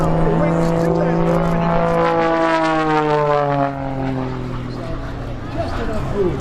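An Extra 300 aerobatic airplane performs at the Boundary Bay Airshow, its propeller engine snarling loudly and steadily, with the pitch sliding downward as it passes, under a commentator's voice.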